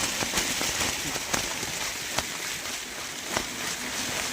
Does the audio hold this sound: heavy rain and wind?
yes